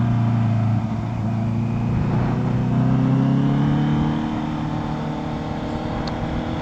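A Honda CBR650F motorcycle rounds a corner, its engine a steady close drone that shifts pitch slightly as it leans through, under continuous wind rush with no speech.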